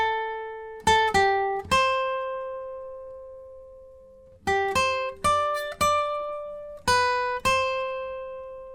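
Electric guitar plays the opening line of a song's solo, clean single notes picked high on the neck and left to ring, in two short phrases separated by a held note, close and alone.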